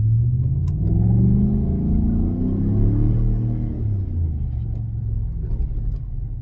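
A 2018 Chevrolet Silverado 1500 LT Z71 pickup engine revs up from a staged launch, a loud, steady rising rumble that swells and holds, heard up close with no talk over it.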